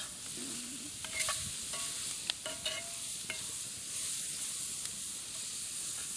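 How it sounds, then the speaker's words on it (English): Bell pepper and onion sauté in a roux for trout courtbouillon, giving a soft, steady sizzle with occasional spoon scrapes and light clicks against the pot, quiet and close with no talking. "And what you want to do is just saute it to where they're soft."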